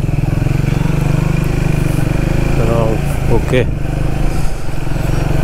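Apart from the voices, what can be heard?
motorcycle engine on a bike ride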